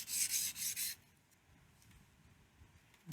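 Knife blade rasping over a sharpening stone in several quick strokes, loud and close for about a second, followed by quiet handling noise.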